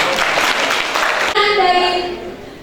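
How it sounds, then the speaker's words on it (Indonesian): An audience claps at a dialogue session with a sociologist and psychologist, a dense burst of applause that cuts off sharply partway through and gives way to a voice speaking. "Tepuk tangan Pak."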